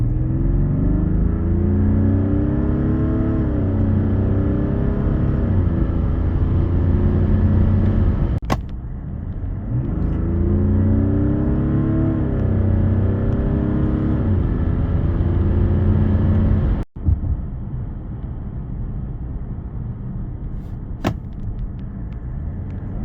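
A Mazda CX-80 SUV with its 3.3-litre e-SKYACTIV D 254 diesel engine and AWD pulls smoothly and steadily, heard from inside the car, with a deep, even engine hum rising gently in two long accelerations and sharp clicks between them.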